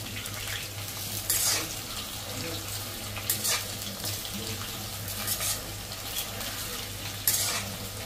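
Onion paste frying in hot oil with whole cumin and bay leaf in a kadai, a steady low sizzle with a few louder bursts of stirring scrapes, no talking.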